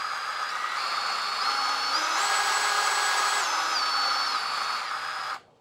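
A Dewalt Atomic 20V cordless band saw with a variable-speed trigger runs steadily close up, its whining motor pitch rising midway, then easing back down before it abruptly cuts off at the end.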